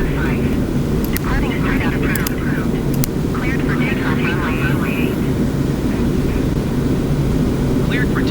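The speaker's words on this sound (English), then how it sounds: "Cleared for takeoff runway 8 TWA Flight 4." A TWA airliner spooling up for takeoff in Microsoft Flight Simulator 2020, a loud steady engine roar filling the clip, with voices talking over it early on.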